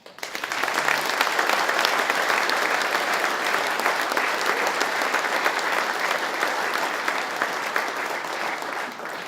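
Sustained applause from a crowd, steady and full for several seconds, tapering slightly toward the end.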